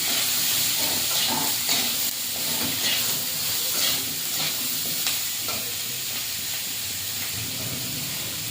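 Turmeric, cumin and coriander paste fries in a pan as water is added, giving a steady loud hiss and sizzle with faint stirring scrapes throughout.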